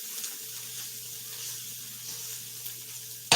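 Onions sizzling in a dry patch of an oily pan while ribs cook: a soft, steady hiss with a low hum underneath, ending in a brief clatter.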